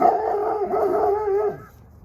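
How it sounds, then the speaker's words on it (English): A dog barks and howls in a long, sustained, fairly close outburst for about a second and a half, then trails off into quiet, with no voices over it. "He's just gonna go bark at everybody."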